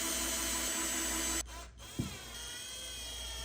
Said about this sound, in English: I decided to use screws instead and drill them into the desk to secure the power strip